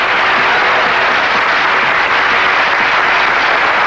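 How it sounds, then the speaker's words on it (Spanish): Loud, dense, continuous audience applause at a bolero singing contest final, a steady wash of many hands clapping with no talk. "Un aplauso, por favor."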